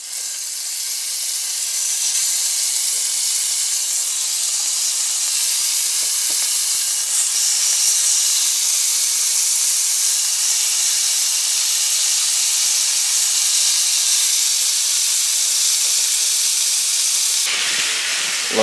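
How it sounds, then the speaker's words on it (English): Venison backstrap steaks sizzling hard in a hot pan, a loud, constant bright hiss that runs unbroken and close, lifting slightly near the end, with no talking. "We're going to throw the steaks on"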